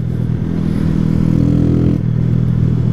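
Honda CG 125 motorcycle converted to run on ethanol, cruising steadily on a highway with a continuous loud engine drone, a brief dip in pitch near the end, plus wind rumble and some rattling clatter.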